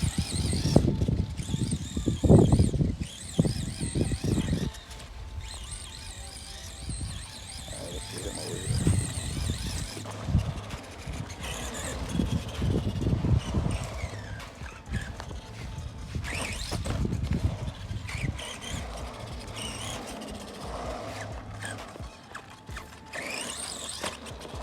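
An Arrma Granite Voltage electric RC truck tears through thick grass, its motor whining and surging in repeated bursts that fade and return as it drives near and away, with someone talking over parts of it.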